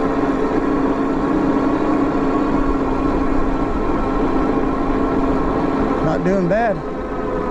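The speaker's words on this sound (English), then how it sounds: "Let's see if we can throttle up this mountain, guys." A REVR V5 e-bike with a 20Ah battery climbs a mountain on throttle alone. Its motor gives a steady, fairly loud drone with a faint tonal hum over wind rush, and a voice speaks briefly near the end.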